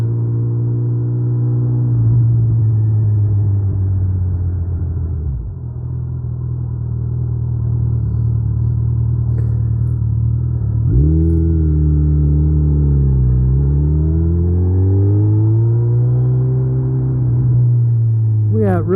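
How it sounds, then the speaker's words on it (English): A motorcycle rides around town, its engine a loud, close, continuous drone that dips briefly mid-ride and then climbs again in smooth swells as the rider shifts and accelerates. "We're just driving around town putting some miles on."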